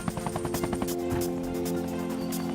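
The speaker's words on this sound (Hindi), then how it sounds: "हम हेलीकॉप्टर से जाते हैं।" Helicopter rotor chopping steadily, a fast rhythmic thumping over a droning engine hum, fairly loud and continuous.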